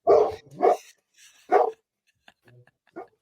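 Several loud dog barks close by, two quick ones then another after a pause, followed by a few faint scattered sounds and a softer final yip.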